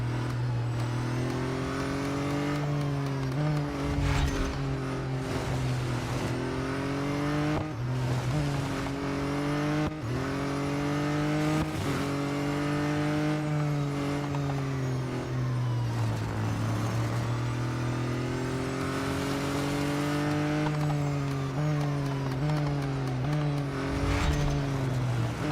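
Race cars in the video game Real Racing 3, six cars battling for position: a steady, loud engine whine rising and falling through gear changes without pause, with no talk.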